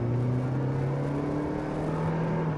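A 2023 Toyota Prius XLE hybrid accelerating from a stop, a smooth, steady electric whir and hum heard from inside the cabin, with no pauses.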